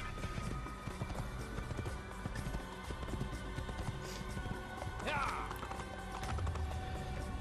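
A horse gallops in the Assassin's Creed video game, with rapid rhythmic hoofbeats running steadily under game music and a brief whinny. Someone talks over it.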